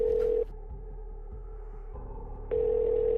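Telephone ringback tone on an unanswered call to a dormitory room, a steady tone pausing briefly then resuming, with low hum underneath and no voices.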